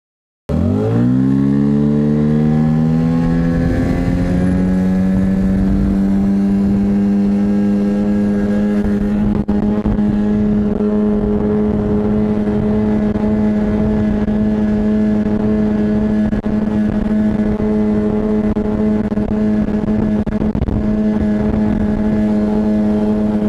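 Tohatsu 9.8 outboard motor fitted with a GL Marine propeller, driving a Flagman 330U boat at speed; a loud steady engine drone that rises in pitch at the start, then holds high revs without pause.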